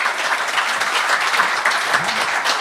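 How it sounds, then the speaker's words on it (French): A comedy show audience gives a short burst of dense, close applause that holds at an even level. "Let's go, on peut l'applaudir."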